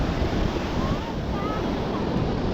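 Sea waves wash onto the beach at Puri at sunset, a steady close roar of surf mixed with gusty wind buffeting the microphone and faint voices in the background.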